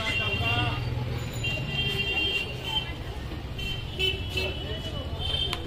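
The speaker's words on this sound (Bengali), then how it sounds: "স্টেশন থেকে অনেক টোটো পেয়ে যাবে" Busy road traffic outside Ranaghat railway station in West Bengal, with e-rickshaws (toto) and other vehicles passing and occasional horn toots, with voices talking nearby throughout.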